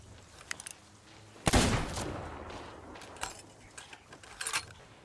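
Gunfire from a firearm in the Sea of Thieves pirate video game, one sharp loud report followed by a decaying rumble, with scattered faint clicks and clatters before and after.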